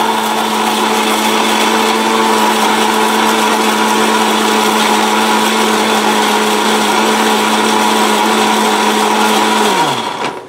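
A blender with a steel bush whirs loudly at a constant pitch for about ten seconds, then winds down quickly as it is switched off, close and alone without talk.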